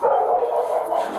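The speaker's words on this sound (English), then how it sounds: "Dog." A dog at a police scene gives a short, muffled bark or yelp, close and fairly loud, heard alone without talk.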